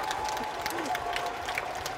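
An audience at an open talk during the Busan International Film Festival applauds, a steady wash of moderate clapping with a little cheering throughout the brief stretch.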